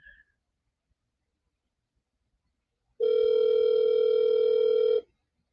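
A single steady electronic telephone ring tone sounds for about two seconds after a stretch of silence, clear and close, during a late-night call-in broadcast.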